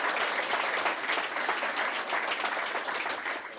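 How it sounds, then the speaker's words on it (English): Lecture audience applauding the collaborators on a Kingston Harbour cleanup project, a full, steady wash of clapping from many people, sustained and even throughout. "a round of applause for all the collaborators"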